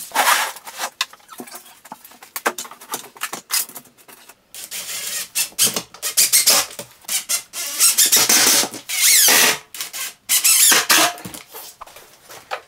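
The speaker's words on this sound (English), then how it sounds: "I'm gonna go ahead and cut it out with the drill and jigsaw." Drill and jigsaw cutting a receptacle box opening out of plywood, with irregular bursts of rasping, buzzing cutting that start and stop, growing louder and more sustained toward the middle and end.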